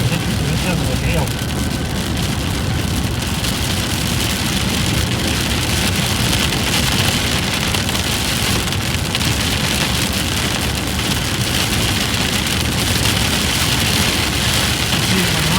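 Hail falls steadily in Ames, Iowa, a dense, loud pattering rattle drumming on surfaces without pause, with an engine idling underneath and someone talking over it.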